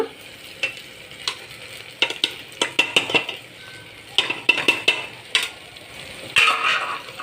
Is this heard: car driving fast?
no